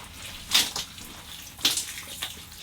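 Shower running in the wet bath of a camper van, water spraying and splashing in two strong bursts with softer patter between, close and fairly loud, with no talking.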